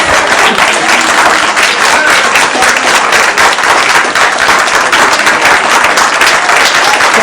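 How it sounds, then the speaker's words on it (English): Sustained audience applause at a panel event, a loud, thick wash of many hands clapping that holds steady throughout, with some faint voices mixed in underneath. "save the applause till the end"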